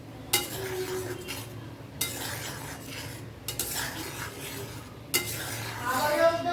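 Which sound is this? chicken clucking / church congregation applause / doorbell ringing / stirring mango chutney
stirring mango chutney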